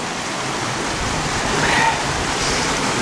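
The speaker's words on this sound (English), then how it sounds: "when you look at the amount of water that's coming out of there," Steady, full rush of water pouring out of a pond through a man-made channel beside a dam, a dense continuous wash close by with no breaks.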